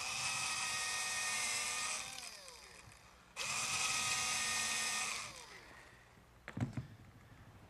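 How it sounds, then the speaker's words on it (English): Drill boring a pilot hole for screws into hard oak: two sustained high whining bursts of about two seconds each, loud and close, with the pitch sagging as each run winds down, then a few brief knocks. "But first I'm going to have to drill a pilot hole for the screws,"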